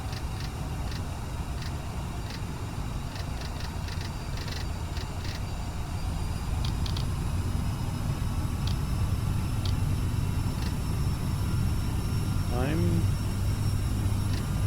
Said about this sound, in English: A successful takeoff in a CRJ 700.